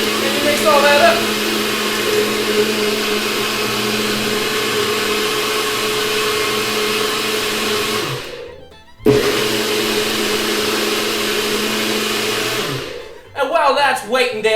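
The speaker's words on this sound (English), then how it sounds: "Gotta plug in the blender, you guys." An electric blender whirs loudly, mixing a cocktail, running steadily, cutting out briefly, restarting and then stopping near the end as a voice starts speaking.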